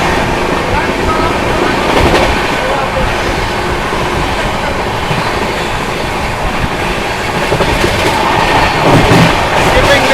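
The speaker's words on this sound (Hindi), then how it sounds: "चलिए दोस्तों अपनी विक्रमशिला एक्सप्रेस स्किप करने जा रही है मिर्ज़ापुर 130 की रफ्तार में भाई" Vikramshila Express running at about 130 km/h through Mirzapur, heard from on board as a loud, steady roar with continuous rhythmic clickety-clack of wheels over rail joints throughout.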